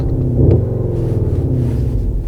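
A 2021 Skoda Octavia RS engine sound in sport mode, a deep steady rumbling drone heard from inside the car, loud and continuous with a slight swell near the start.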